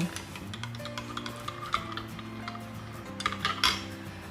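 A metal spoon stirs instant coffee in a glass, clinking and ticking against the sides in quick, uneven taps, close and clear, with a few louder knocks near the end.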